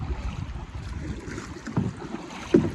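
A small boat is paddled on the sea off Dwarka, with soft water splashes and lapping against the hull under light wind, a couple of brief louder knocks standing out near the end.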